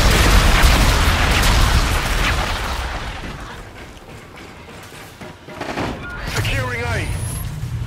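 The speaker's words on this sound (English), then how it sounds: "Friendly bombardment incoming." Heavy bombardment and gunfire in the Call of Duty: Infinite Warfare multiplayer game, with loud dense blasts and rattling shots at the start that ease into quieter rumbling, then a radio-like chirping and whistling near the end.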